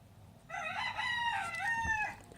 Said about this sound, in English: you can hear the chicken in the background